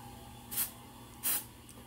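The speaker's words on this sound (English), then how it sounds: "And now we're gonna add the blue spray." Two short hissing bursts of blue cooking spray from an aerosol can, close and fairly quiet, spaced under a second apart over low kitchen background noise.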